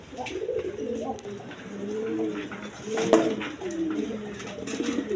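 Several pigeons coo repeatedly in low, rolling murmurs close by, overlapping one another, with a faint voice in the background.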